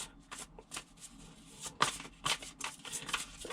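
Tarot cards being shuffled by hand, a run of crisp riffling and slapping bursts at close range, with no talk over them.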